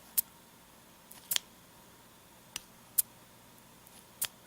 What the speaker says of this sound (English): let's go ahead and look at the touchdown filling system. You pull this back and listen.